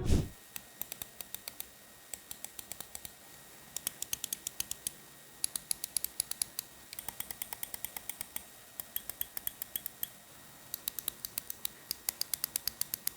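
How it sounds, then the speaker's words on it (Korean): Rapid, crisp clicking in irregular bursts, close and fairly quiet, like a computer mouse button being pressed repeatedly with no talking. "마우스 클릭음을 측정해봐도 전반적으로 고른 수준을 보일 수 있습니다."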